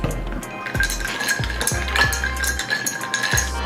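An iced coffee made with Javy coffee concentrate, extra vanilla sweet cream and syrup is stirred in a glass, with a spoon clinking and scraping repeatedly and briskly, close up and loud, with no talking.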